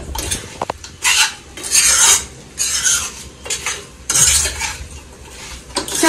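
Chicken pickle pieces mixed with oil in a dish, bursts of scraping and stirring with a utensil against the container, close and fairly loud, with short pauses between strokes.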